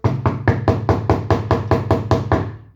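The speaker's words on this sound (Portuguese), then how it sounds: "Bateu na porta." Someone raps on a wooden hotel door with about a dozen sharp, evenly spaced knocks in quick succession, close and loud.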